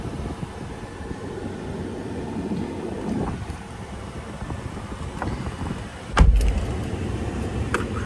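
Keys jangle in a hand with a sharp burst midway, set against steady low wind and outdoor rumble beside a 2020 Ford F-150 Raptor pickup truck.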